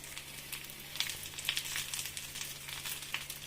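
Onions and tamarind sauté in a pan for a tomato-free onion chutney, giving a soft, continuous sizzle with occasional sharper spits and no voices over it.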